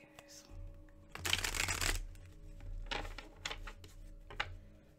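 Playing cards are shuffled close by in a few quick riffling bursts, and voices talk quietly around them.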